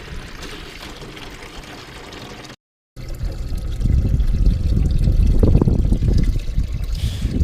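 Water pours into a homemade livewell on a jonboat, a steady trickling stream that stops briefly, then resumes as a louder, fuller gush close by, alone without talk.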